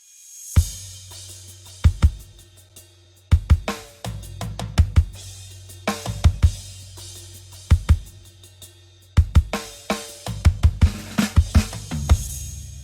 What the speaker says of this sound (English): I put in some acoustic drums.